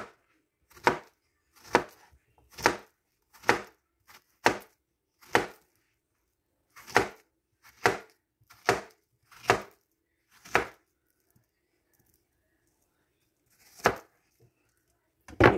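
A knife chops through plantains being sliced thin for frying, landing in a steady series of crisp, close taps with a few pauses between them.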